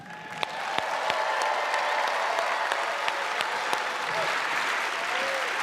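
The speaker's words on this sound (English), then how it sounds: "there is someone else who deserves all your applause." A studio audience at a magic show stage applauds steadily to welcome a performer, with a dense, loud wash of clapping throughout.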